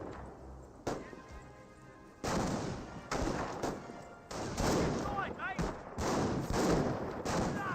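Landmine detonation in Company of Heroes amid ongoing wartime battle noise, with broadband blasts and crackling gunfire bursting through repeatedly and a voice talking over the mix.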